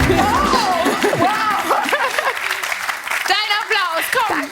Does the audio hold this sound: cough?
no